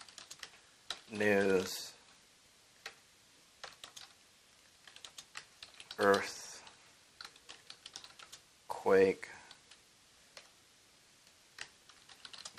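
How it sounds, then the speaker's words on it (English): Computer keyboard typing in short bursts of quick, light clicks, close and moderately quiet, broken up by spoken talk between the bursts. "we can actually type in our own title"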